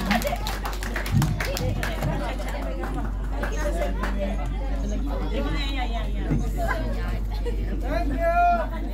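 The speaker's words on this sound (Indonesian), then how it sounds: "Beri tepukan kepada Bapak yang luar biasa" Applause for the fathers at a Father's Day church thanksgiving service, clapping mixed with crowd chatter and hubbub, steady and moderately loud throughout.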